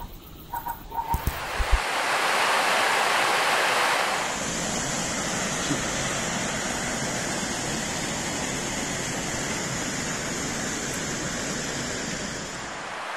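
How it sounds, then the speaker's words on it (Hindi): The Kali Ganga river rushes past in the Himalayan mountains near Kedarnath, a loud, steady roar of turbulent water that swells at first and then holds as continuous close noise, with a few handling knocks at the start. "यह नदी काली गंगा के नाम से जानी जाती है"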